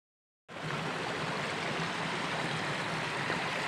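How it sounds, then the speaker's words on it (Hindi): Two scooters are being washed in a stream, with a steady, close rush of flowing water that starts abruptly after a brief silence and continues with no talk. "सो गाइस अभी धुल रहे मैडम की स्कूटी और अपनी स्कूटी"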